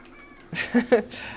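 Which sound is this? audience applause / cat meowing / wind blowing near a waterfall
cat meowing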